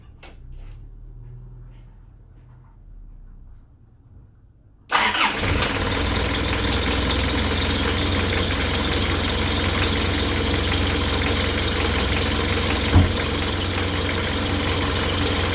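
An Isuzu 4JG2 diesel in a Bighorn, grille off, cranks and catches on a cold start, then settles into a steady, loud clattering idle that runs unbroken; quiet room tone precedes the start.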